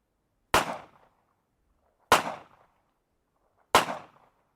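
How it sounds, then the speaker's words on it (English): Three sharp, loud pistol shots from a CZ 83 fired without a suppressor, using the same ammunition as the murder weapon, evenly spaced about one and a half seconds apart, each with a short decaying tail and silence between. "The experts recorded a series of gunshots. This is the CZ, no suppressor."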